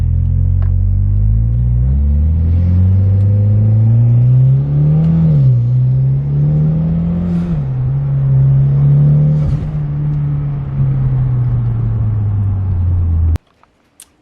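A Mitsubishi Evo X pulls uphill, its engine rumbling loud and close as revs climb and dip through gear changes, then cutting off abruptly near the end.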